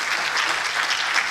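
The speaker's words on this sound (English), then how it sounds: "I think we need a round of applause for our students" A steady burst of audience applause for law students at a law school alumni homecoming and anniversary event, dense and continuous throughout.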